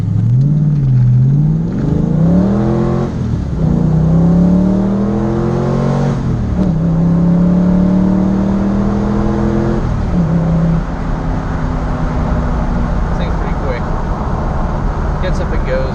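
A Ford Mustang's engine revs up loudly and close, climbing in pitch through repeated gear pulls before settling to a steady drone.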